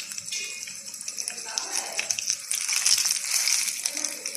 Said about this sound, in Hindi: जिस तरह फ्राई हो जाएगा, कड़ कड़ करने लगेगा ये